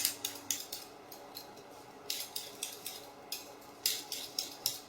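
A peeler scrapes down a vegetable for coleslaw in a quick series of crisp, rhythmic strokes, about a dozen sharp scraping rasps in bursts, close and clear with no talking.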